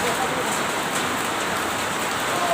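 Hail pelting down during hot weather, a dense, steady clatter that fills the whole stretch without pause, close and evenly loud like heavy rain on a hard surface.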